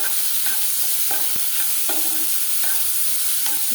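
Sliced onion and green chillies sizzle steadily in a pan, with a spatula scraping and stirring in a regular rhythm of soft knocks. No voices are heard.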